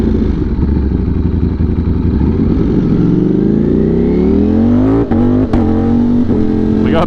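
A motorcycle on a morning commute accelerates hard, its engine note rising steadily in pitch. Quick shift breaks come near the end, and the loud, close roar continues without pause.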